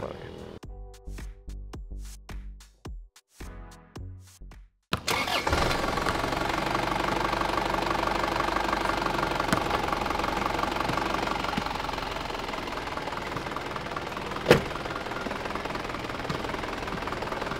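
An Isuzu Panther engine in stock condition starts up, then settles into a steady, smooth idle with a continuous low rumble and a brief sharp knock near the end; a voice talks faintly underneath.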